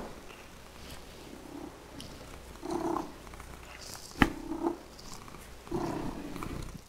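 A cat purrs softly and steadily in a woodworking workshop, the low rumble continuing under quiet room noise with a few brief clicks and knocks.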